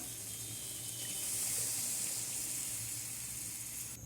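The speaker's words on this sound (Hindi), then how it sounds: "अब हम इसमें पानी ऐड करेंगे।" Two glasses of water pour into a pan of potato kofta curry, a continuous loud rushing splash over the sizzle of hot oil, close by and sustained throughout.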